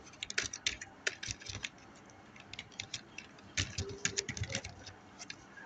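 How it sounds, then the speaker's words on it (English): Quick bursts of keystrokes on a computer keyboard as a contact list name is typed, near and clear, with short irregular pauses between clusters of clicks. "at contact, you type a list name."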